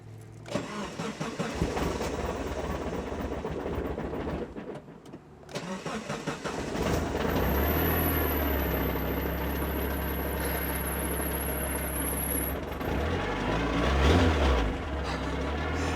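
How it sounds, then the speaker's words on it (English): An NA Mazda Miata fitted with a GearMotive ZF dogbox cranks and fires up, then settles into a loud, steady idle close by, with a high whine lingering over the engine. "Let me start the car up real quick so I can actually get it into gear."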